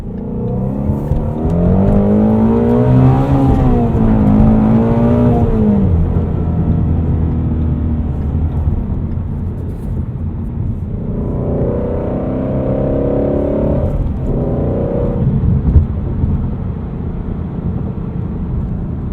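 A 2016 Ford Mustang Shelby GT350 engine revving hard from inside the car, a loud sustained roar that climbs in pitch, drops at a shift, then surges again, with no talk.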